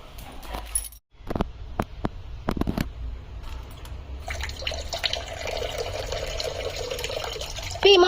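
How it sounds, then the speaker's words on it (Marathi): Water pours steadily into a container for a pet, a continuous splashing stream that follows a few sharp knocks and handling clatters, close to the microphone with no clear talk. "चला आता शिंबाला पाणी देते आधी मी"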